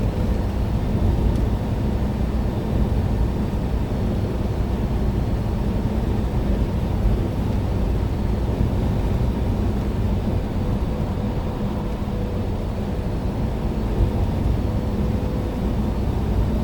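Vehicle engine held under steady throttle on a steep, gradual climb of the I-70 hill, a continuous low rumble with broadband road roar, loud and unbroken throughout.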